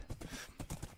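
Horse hooves in the Hunt and Run video game, a quick rhythmic clip-clop of several hoof beats at a gallop, close and moderately loud, with no voices.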